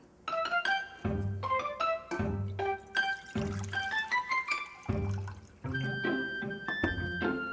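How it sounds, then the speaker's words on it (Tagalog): Water is poured into flour for bread dough, giving a series of close, clear pouring and dripping sounds in uneven bursts with rising pitch, with no talk. "Ang unang gagawin ay ihahalo ang tubig sa harina at mamasahin."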